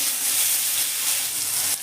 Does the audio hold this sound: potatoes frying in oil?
yes